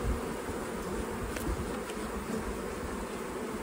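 Honeybees flying around a small six-frame hive on a thawing day after snow, a dense, continuous buzzing hum close by with a few individual bees passing.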